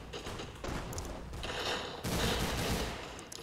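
Rapid gunfire from a newly acquired gun in an online shooter game, sharp bursts of automatic shots in quick succession, close and loud, with no voices over it.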